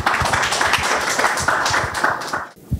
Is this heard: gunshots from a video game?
no